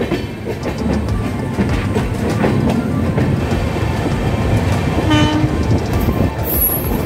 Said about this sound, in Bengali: চলুন, আমাদের ট্রেন হাওড়া ছাড়লো